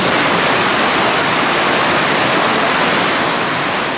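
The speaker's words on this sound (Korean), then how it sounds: "폭포처럼 떨어지는 물줄기를 따라 좀 더 숲속으로 들어가면 발원지가 나옵니다." A waterfall at Tel Dan, Israel, pours as a loud, dense and unbroken roar of falling water, close by and alone for the full four seconds.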